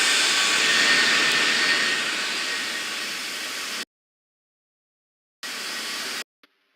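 Jet airliner engines roaring during takeoff in a flight video game, a loud continuous broadband roar and hiss that slowly fades, cuts to silence, then returns briefly before stopping.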